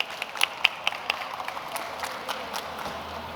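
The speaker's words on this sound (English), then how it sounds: "Please give them a big round of applause." Audience applause at an AI innovator pitch competition, scattered claps with a few sharp close ones at first, then thinning into a soft, fading patter.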